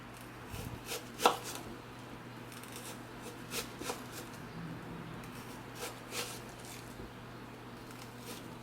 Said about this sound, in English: You go all the way in, down, and you do your slicing.